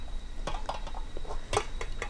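Fresh tomatoes being stirred and pressed through a metal strainer into a bowl, giving a run of soft scraping and clinking utensil strokes, close and moderately loud, with no talking.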